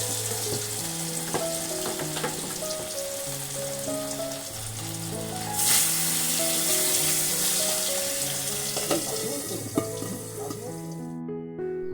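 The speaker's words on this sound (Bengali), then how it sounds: "খুব টেনশনের মধ্যে দিয়েই মাছগুলো আমি ভেজেছি কিন্তু অবাক করে দিল একটা বিষয় যে আজকে একেবারেই তেল একটুকুও ছিটকোয়নি" Fish fries in hot oil with a loud, constant sizzle and crackle, heard close up while a melodic tune plays underneath throughout.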